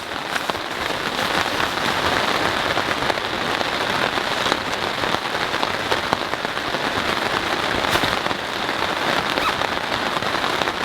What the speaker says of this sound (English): Just because there's a little bit of rain,